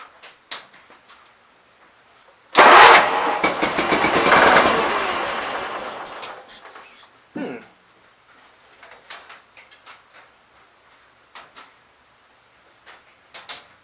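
A Case 448 garden tractor engine with a swapped carburetor cranks and catches in a loud rough burst lasting a few seconds, then cuts out, leaving faint clicks and ticks.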